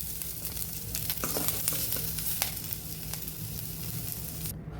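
Mixed vegetables sizzle and fry in oil in a kadai, a steady close crackling hiss with occasional stirring clatters, alone without talk.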